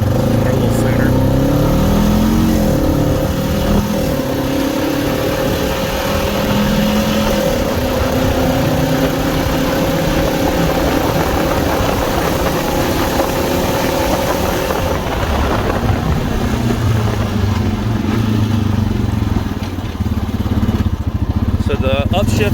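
A 2016 Honda Rancher ATV engine runs steadily while riding, its tone dropping and shifting as gears change, with wind noise and someone talking over it throughout.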